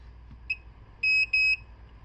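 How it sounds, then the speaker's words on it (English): A pH meter gives a short chirp during calibration, then two sustained high beeps in quick succession against a quiet background. "as soon as you hear the beeping, it's ready for our second standard"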